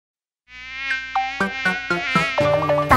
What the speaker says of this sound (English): Buzzing mosquito, buzzing mosquito.